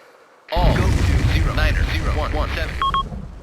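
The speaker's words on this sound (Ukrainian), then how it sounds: "Окей, Miles, satchel's blown." A satchel charge detonates in Arma 2 with a sudden loud boom, followed by a long rumbling roar and crackling debris, with a voice audible partway through.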